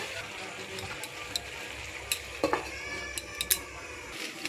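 A lid goes onto a metal pot of chicken curry (chicken kosha) with a few sharp metallic clinks and taps over a soft, steady cooking sizzle, heard close by.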